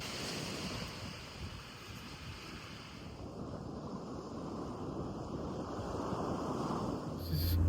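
Steady broadband rush of surf rolling onto a beach in Pernambuco, Brazil, continuous and fairly loud with wind noise across the microphone and no talking.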